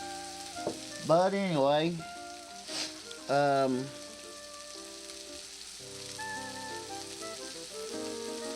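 Sausage fries in a pan with a soft continuous sizzle throughout; someone talks briefly over it, then a quiet melodic tune plays on top.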